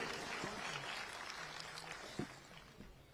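Audience applause at a Hindi kavi sammelan, a poetry gathering held in memory of a political leader, with a dense, steady patter of many hands that fades gradually and leaves a few louder isolated claps near the end.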